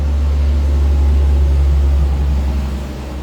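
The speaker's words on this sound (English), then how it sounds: "there's a big truck going by" A big truck drives past close by on a main road, a loud, steady low rumble that holds throughout and eases slightly toward the end, with no talk over it.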